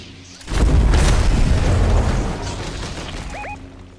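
Gunfire in Fortnite hits as a heavy booming blast that swells and lingers in a rumbling tail, loud and close, with no talk over it.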